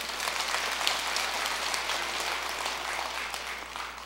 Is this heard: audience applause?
yes